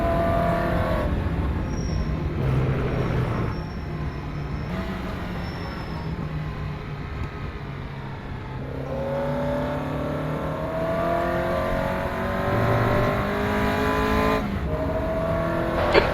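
Caterham Academy race car in rFactor 2 lapping Castle Combe, its engine revving loud and close, the pitch rising and dropping sharply at each gear change, with no voices.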